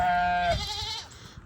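Goats and sheep on a farm give a clear bleating call with wavering harmonics, loud and close, followed by fainter rustling and farmyard noise.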